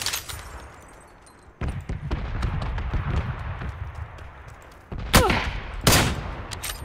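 Gunfire in the PC game PUBG: a few sharp, loud shots stand out over a busy background of rapid thumping game sounds.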